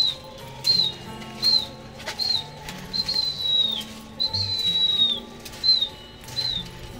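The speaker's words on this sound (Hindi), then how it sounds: "तो कबूतर अपना पलट गया।" A pigeon flaps its wings during a pigeon-fighting session cut short by rain, with repeated bursts of wingbeats over about seven seconds, mixed with high whistles and chirps close by.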